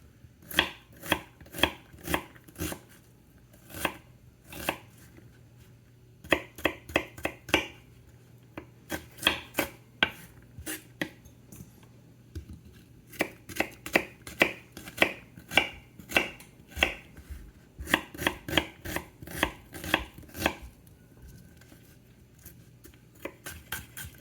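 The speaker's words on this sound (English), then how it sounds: "They tell you where to cut if you want to have like a really beautiful dice." A kitchen knife dices onions on a cutting board, crisp close chops arriving in quick bursts of several strokes separated by short pauses, with no one talking.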